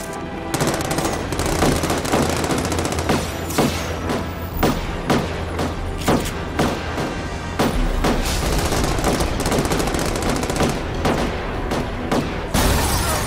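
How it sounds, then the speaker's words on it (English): Rapid machine gun fire in the Amazing Spider-Man 2 video game, dense repeated bursts and sharp shot impacts continuing loudly and nearly without pause, with a low rumble underneath. "I hear the gunshots."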